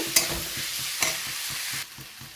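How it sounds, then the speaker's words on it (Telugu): Eggs frying in an oil-filled pan while being stirred, with crackling sizzle and repeated scraping stir strokes in a quick rhythm, close and clear with no voices. "ఇప్పుడు ఎగ్స్ కూడా వేసి బాగా కలిపేస్తాను."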